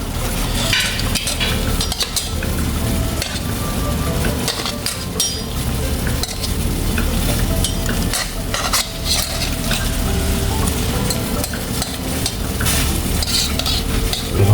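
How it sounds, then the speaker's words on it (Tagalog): Tomatoes and onions bubble and sizzle loudly in a boiling pot, with steady crackling, occasional utensil scrapes and stirring, close up and continuous. "Kumukulo na po yung ating kamatis at sibuyas."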